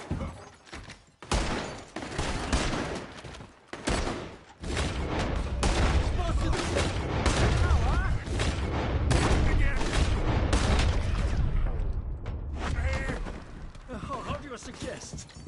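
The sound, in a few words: gunfire from enemies in the video game Red Dead Redemption 2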